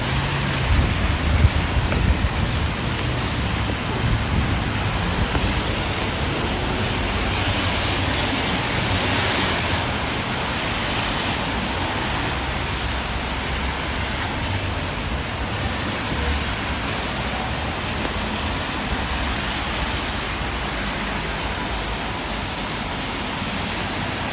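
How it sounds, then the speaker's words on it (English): Steady rain and gusting wind make a continuous loud hiss, with a low rumble of Toronto city traffic underneath throughout. "As we battle the wind and the rain,"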